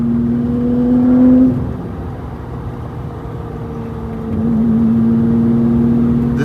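A rear-wheel-drive converted Lamborghini Murciélago LP640 driving on city streets, heard from inside as a steady engine drone with a sustained tonal hum that eases off midway and then rises again, loud and close.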